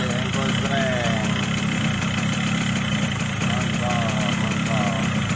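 A Yamaha RX King two-stroke motorcycle idles after a kick start, a steady, close engine burble with faint voices in the background.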